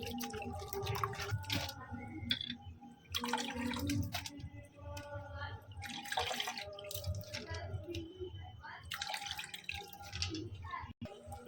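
Flattened rice (chira) is squeezed and rinsed by hand in a bowl of water at home, giving repeated wet squelches, drips and splashes in irregular bursts close up.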